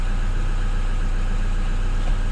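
A high-kilometre Toyota Hilux N70 D-4D diesel engine idles steadily up close, a loud, even low rumble with mechanical clatter and no talking.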